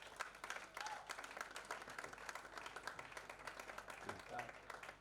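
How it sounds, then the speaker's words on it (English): A conference audience claps steadily through the whole stretch, a moderate, dense patter of hands heard from within the room, with some voices murmuring underneath. "can you please clap for the speaker so far, please?"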